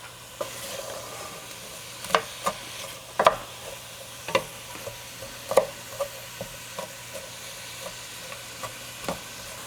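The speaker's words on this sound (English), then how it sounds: "So let it be here sauteing for just maybe 5 minutes." Onions or aromatics sauteing in ghee (clarified butter) in a pan, a soft steady sizzle with repeated sharp scraping knocks of a spoon stirring at irregular intervals, close and fairly quiet, no talking.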